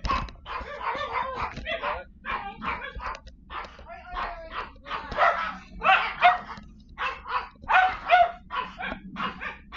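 Dogs bark in repeated close bursts, with excited yips and whimpers between, over a low steady hum.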